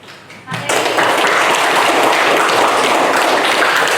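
Audience applause breaks out after a brief quiet start, a dense sustained clapping that fills the room and holds steady to the end.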